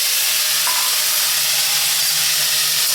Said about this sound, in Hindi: तो पहले डालती हूँ बड़ा वाला ये टमाटर।